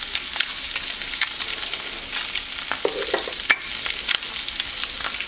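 Breakfast burrito filling with freeze-dried onion frying in a pan, a close, steady sizzle with intermittent scraping and clicks of stirring, no voices.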